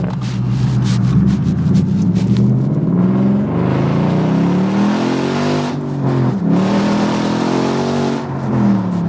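A 2016 Ford Mustang V8 with a manual gearbox accelerates hard, its loud exhaust rising and falling in pitch through the gears, close and dominant with no talk.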